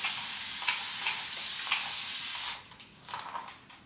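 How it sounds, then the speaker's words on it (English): Water is spritzed onto curly boho knotless braided hair from a spray bottle in a few short, soft hissing bursts, quiet and close. "I do just like to spray with water"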